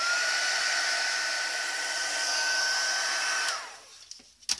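A heat tool dries ink on paper at a craft table with a steady loud whir, then switches off and winds down, leaving small handling clicks.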